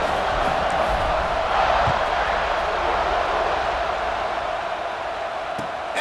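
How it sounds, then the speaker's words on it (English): Steady roar of a large stadium crowd in EA Sports College Football 26 during a Georgia vs Texas game, a dense continuous wash of cheering that stays loud throughout with no distinct spoken voices. "Do you think this crowd's going to get loud when their defense comes on the field?"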